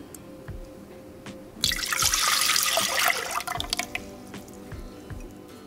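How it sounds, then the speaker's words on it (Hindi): Milk is poured into a pan while making an orange cake, a steady bright splashing pour lasting about a second and a half, with soft knocks and clinks of kitchenware before and after. "पैन में हम दूध डालेंगे।"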